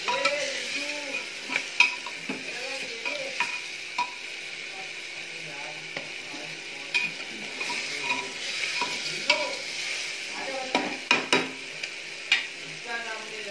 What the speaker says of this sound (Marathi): व्यवस्थित असं हलवून घ्यायचं